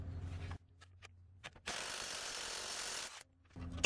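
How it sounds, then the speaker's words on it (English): A hand ratchet works a bolt loose on a 2010 Toyota Corolla at the driver-side axle, with short bursts of clicking separated by quiet gaps and a sustained stretch of rapid ratcheting in the middle, close up. "let's go ahead and take this bolt off"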